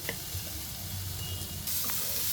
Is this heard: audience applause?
no